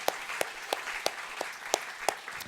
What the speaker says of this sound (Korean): 오늘 처음으로 오신 분들 계시면 우리 환영하면서 한번 박수할까요?